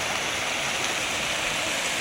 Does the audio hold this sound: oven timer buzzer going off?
no